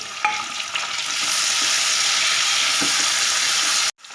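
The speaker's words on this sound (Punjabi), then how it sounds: "ਸਭ ਤੋਂ ਪਹਿਲਾਂ ਪਾਵਾਂਗੇ ਆਪਾਂ ਜੀਰਾ ਤੇ ਨਾਲ ਹੀ ਪਾ ਦੋ ਜੀ ਪਿਆਜ਼ ਤੇ ਟਮਾਟਰ ਪਾ ਦੋ" Cumin, onion and tomato hitting a hot pan for a mung dish, a loud steady sizzle with a few light spoon taps, cutting off abruptly near the end.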